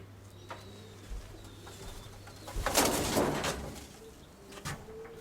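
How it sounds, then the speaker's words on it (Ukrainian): A grey pigeon coos softly in a loft. Its quiet calls blend with a brief scraping, rustling noise midway through. "Ось голубок такий сірий, восьмий голуб це."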